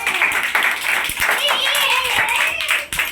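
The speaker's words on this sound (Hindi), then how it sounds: "ताली बजाओ" Children clap hands during a counting game, with a dense run of claps blended with lively voices and chatter throughout.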